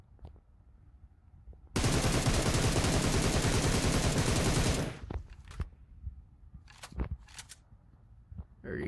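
A rapid burst of automatic gunfire in a first-person shooter game lasts about three seconds, followed by a few scattered single shots.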